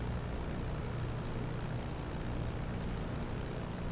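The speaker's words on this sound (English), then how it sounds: "We are now at the phase where we want to warm up the engine" A P-51D Mustang's piston engine idles through its warm-up in the DCS flight simulator, a constant low propeller drone and rumble, loud and even, with no talk over it.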